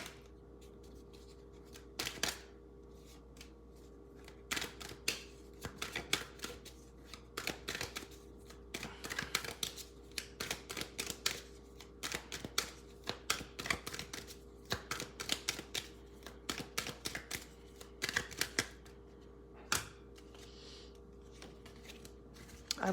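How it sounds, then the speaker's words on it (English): Slippery tarot cards are shuffled by hand in a long run of crisp, riffling card flicks, close and moderately quiet, with a steady faint hum in the background and no talk. "I love these cards, you guys, but they're so slippery and kind of hard to shuffle"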